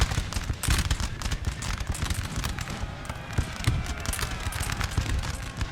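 Cannons fire canister shot in a Napoleon Total War battle, with a dense crackle of repeated sharp bangs and rattling volleys rolling on without pause, mid-distance and moderately loud.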